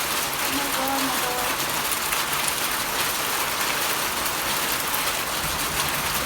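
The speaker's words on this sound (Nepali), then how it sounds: "अझै पनि कस्तो असिना परिरहेको छ साथीहरू" Steady dense patter of hail striking a vegetable garden, a constant loud hiss with no pauses throughout.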